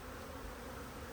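Honey bees hum steadily inside a hive, a continuous dense buzzing with no pauses, heard up close but fairly quiet.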